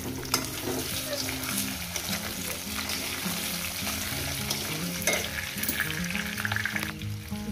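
Taro frying in a pan gives a constant dense sizzle with occasional stirring scrapes, close and steady throughout, with no talking.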